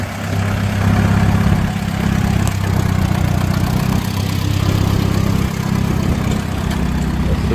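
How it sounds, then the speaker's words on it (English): An antique Oliver D14 tractor fitted with a Series 2 D15 gas engine idles steadily with a low, even rumble that holds at the same level the whole time, with no voices. "This is a D14 chassis with Series 2 D15 gas engine in it."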